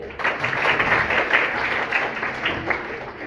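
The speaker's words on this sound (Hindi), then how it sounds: "एक बार ताली बजा लीजिए।" Audience at a school event at an inter college clapping hands together, a dense, steady burst of applause lasting a few seconds at moderate loudness, with no talking over it.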